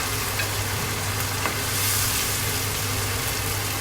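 Sardines frying in a pan for sautéed pechay, being stirred: a loud, steady close sizzle with faint scraping throughout.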